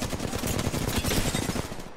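Flatline rifle firing in the video game Apex Legends, a loud, dense, continuous burst of rapid automatic gunfire lasting the whole two seconds with no pause.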